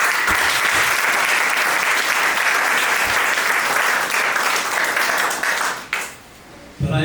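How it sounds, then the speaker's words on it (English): A big round of audience applause at a book event at The Africa Centre in London, dense and loud clapping that holds steady for about six seconds before cutting off sharply into near quiet. "Please give them a big round of applause"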